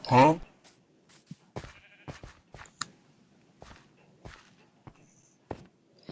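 A sheep in the Minecraft video game bleats once at the start, a short wavering cry, followed by quiet scattered footstep clicks and small game sounds.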